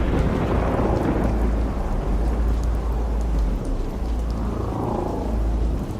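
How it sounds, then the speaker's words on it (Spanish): Heavy thunder rumbles under steady pouring rain in a storm effect for a horror audiobook, deep continuous booming with a dense hiss of rainfall, loud and enveloping throughout. "Me salvó el mismo trueno que lo había invocado"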